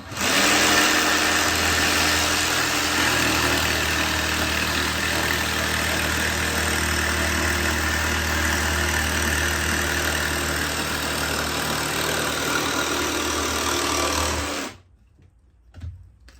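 A jigsaw cuts a straight line with a continuous, loud, close buzzing whirr that holds steady for about fourteen seconds, then stops abruptly, leaving a few faint knocks.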